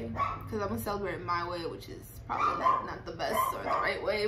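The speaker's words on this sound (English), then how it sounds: "I'm so sorry about my dog barking." A dog barks and yips in the background while a person talks over it at close range.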